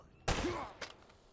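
Gunfire in the video game Uncharted: Drake's Fortune gives one sharp loud burst, followed by a fainter second shot about half a second later.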